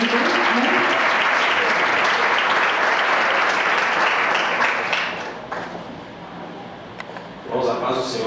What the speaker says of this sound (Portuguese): Vamos louvar o Senhor com as palmas